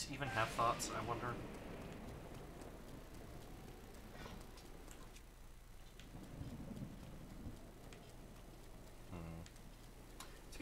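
Thunderstorm in Breath of the Wild, the video game, with steady rain hiss and a rumble of thunder, while a person talks over it in bursts throughout.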